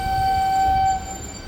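A train at Bhavnagar Para station in Gujarat sounds a steady, loud horn blast for about a second, then the tone cuts off over low rumbling.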